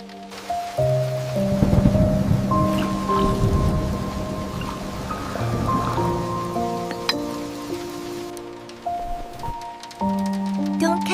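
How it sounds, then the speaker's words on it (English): Slow rain patters softly in a countryside setting while faint thunder rumbles far off, with gentle music-like tones layered over the steady wash of drops. "Don't catch a chill in this rain."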